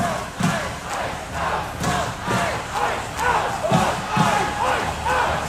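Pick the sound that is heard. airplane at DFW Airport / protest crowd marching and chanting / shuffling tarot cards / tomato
protest crowd marching and chanting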